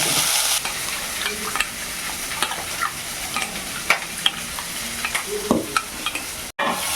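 Green chillies sauté and sizzle in an oil pan while a spoon stirs them for a tamarind fish curry with dried fish and field beans, a steady frying hiss broken by scraping stirs, with no talk.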